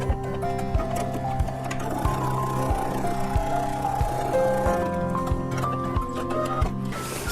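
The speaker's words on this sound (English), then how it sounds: "put the next corner piece right side down, stitch the seam line," A sewing machine stitches a quilt seam on flying geese blocks, running in a steady mechanical clatter with regular ticking beats, close and moderately loud, with faint music or tones alongside.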